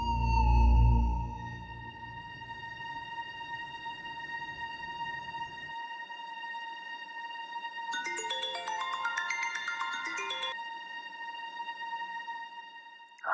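A phone rings while the caller waits on the line, a steady electronic ringing tone with sustained pitched notes and a brighter burst of chiming tones partway through, clear and close.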